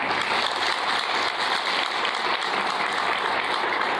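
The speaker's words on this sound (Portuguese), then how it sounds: "Então eu quero pedir uma salva de palmas para vocês." Sustained audience applause at a driving-school (CFC) lecture, dense and steady clapping from a crowd throughout, fairly loud with no talk over it.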